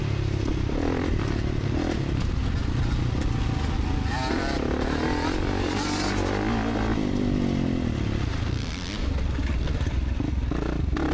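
Motocross dirt bike at open practice on a dirt track, engine loud and close with throttle rolling on and off, rising revs and clattering mechanical noise throughout.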